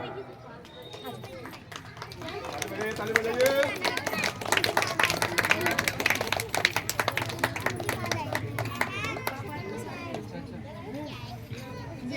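Audience applause at a stage event, dense clapping that builds and peaks in the middle, then thins out, heard over a speaking voice.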